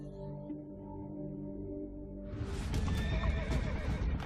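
Horses neigh and whinny near the mic, then hooves clip-clop over a rising, busy background as the sound grows louder toward the end.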